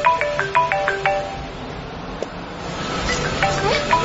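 A mobile phone ringtone plays a quick repeating melodic beep pattern for about a second, then fades into general room and street noise, with a brighter tonal trill returning near the end.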